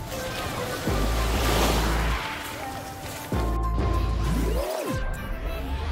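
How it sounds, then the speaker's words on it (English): Sea waves wash onto the shore at Monterosso's Fegina beach in the Cinque Terre, Italy, in a broad, steady surf roar with several swells and crashes over about six seconds, with a voice in the background. "savoring the melodic symphony of the sea waves"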